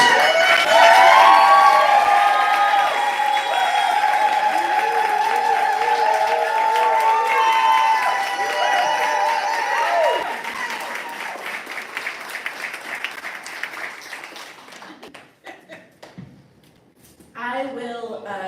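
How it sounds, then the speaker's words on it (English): Audience at a summer poetry gathering applauding and cheering award winners: loud, sustained clapping with shouts and whoops that tapers off, followed by a voice speaking. "a round of applause for our trio, Timothy David Ray."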